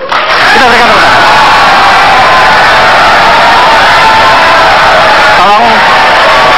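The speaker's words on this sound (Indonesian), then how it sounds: "Kita berikan tepuk tangan." A large crowd at an Indonesian presidential debate claps and cheers in a loud, continuous roar, with a voice calling out over it near the start and end.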